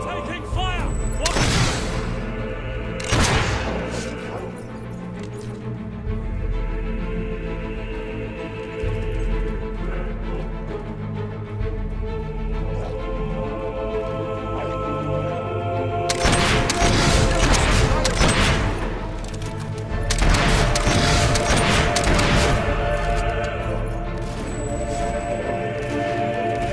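Gunfire in the video game Fable 3, with repeated bursts of shots and booms mixed with background game sounds; a voice talks over part of it.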